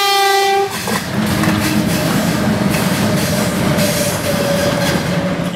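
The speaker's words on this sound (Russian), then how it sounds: "А первый поезд на сегодня – это грузовой с электровозом 2С6, самым скучным локомотивом российских железных дорог." A freight train hauled by a 2ES6 electric locomotive on a Russian railway opens with a loud, close horn blast, then rumbles past with steady clattering wagons and some wheel squeal, with no voices.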